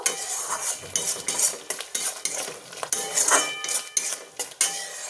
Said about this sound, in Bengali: এবার আমি এই মশলাগুলো এর সাথে ভালোভাবে মিশিয়ে দেবো